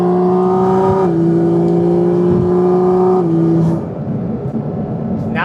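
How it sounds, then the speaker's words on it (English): A Porsche GT4 RS engine revs loudly and close, its strong tone holding steady, then stepping down before easing off into a quieter rumble and a brief rise at the end. "why all of a sudden does the car sound so much better? It's sounding so good right now."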